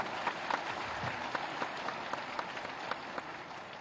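A crowd at a government housing ceremony in Uttar Pradesh keeps up steady applause, a broad continuous patter of many hands with a few sharper claps standing out.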